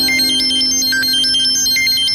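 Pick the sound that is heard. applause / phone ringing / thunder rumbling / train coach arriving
phone ringing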